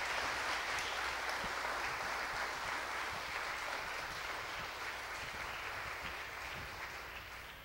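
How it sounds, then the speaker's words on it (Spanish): A church congregation claps for the Holy Spirit, a dense, steady wash of hand claps filling the room for several seconds and tapering slightly toward the end. "Dale palmas al Espíritu Santo."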